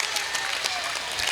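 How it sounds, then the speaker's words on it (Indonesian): Audience applause at a family school gathering, a brief burst of dense, close clapping from a group. "langsung aja tepuk tangan gitu ya"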